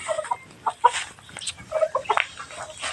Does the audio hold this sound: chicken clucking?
yes